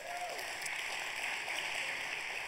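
A congregation claps for Michelle during a church service celebrating 29 years of marriage, a steady, dense wash of many hands filling the room without break.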